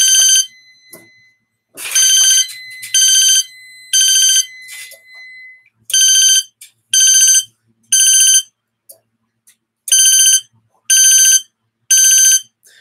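A fire alarm sounds in a code 3 temporal pattern driven by the panel, loud electronic tones repeating in groups of three separated by pauses, alone and close with no talking.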